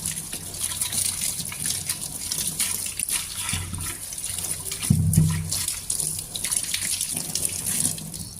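Food is washed under a kitchen tap. Water runs steadily and fairly loudly at close range, with brief splashes and clunks as the food is handled in the stream.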